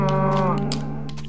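A cow in the Minecraft video game gives a single short moo, loud and close, tailing off within about a second.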